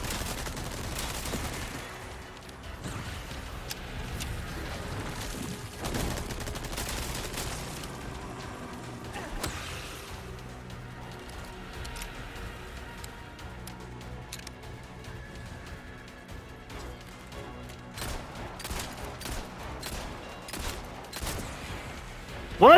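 Gunfire from the Resident Evil 4 Separate Ways video game comes in bursts of shots over music and ambient game sound, with clusters near the start, middle and end.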